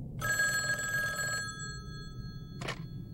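A telephone bell rings in one long electric trill, then stops; after a pause comes a brief second burst, moderately loud over a low background rumble.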